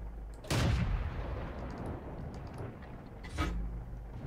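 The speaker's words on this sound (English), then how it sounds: "I went for a blind shot." A tank cannon fires a blind shot in the World of Tanks video game: one loud, sharp boom with a rumbling tail, then a second, quieter report about three seconds later over steady engine drone.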